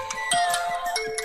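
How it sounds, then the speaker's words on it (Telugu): A phone rings at home for an incoming morning call, with short repeated electronic ringtone pulses, fairly close and alone. "పొద్దున్నే అన్నయ్య ఫోన్ చేస్తున్నాడేంటి?"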